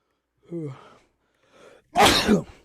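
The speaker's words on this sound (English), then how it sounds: "One second, I gotta sneeze." A couple of soft breathy catches build up to one loud, explosive sneeze, up close.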